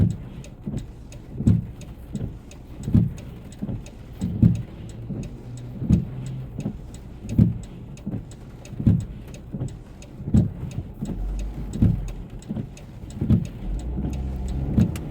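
Cars passing on a wet road during a rainstorm, a steady hiss of rain broken by a series of tire swishes that swell and fade as vehicles go by at regular intervals.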